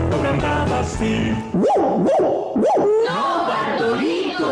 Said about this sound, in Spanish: No, Bartolito, eso es un perro.